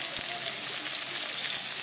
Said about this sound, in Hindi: डाल देंगे प्याज। तो अच्छे से फ्राई कर ले पहले तेल में